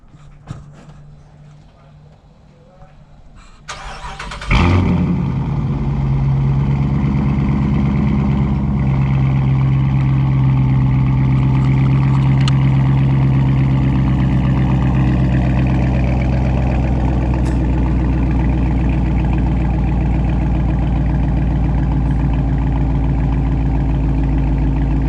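Dodge Charger R/T Hemi V8 with mid-mufflers deleted, warm-started with a sharp crank and roar, then settling into a loud, steady, deep rumbling idle that holds for about twenty seconds.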